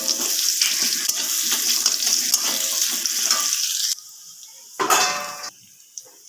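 Crushed garlic dropped into hot oil already tempered with bay leaf and whole cumin, a close, busy sizzle with stirring scrapes that cuts off abruptly, followed by a short burst of frying and then quiet.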